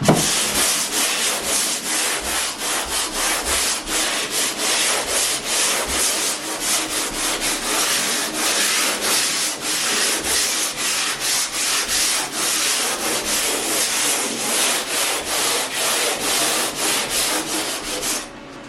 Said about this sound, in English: when you're sanding, you're going to pull it across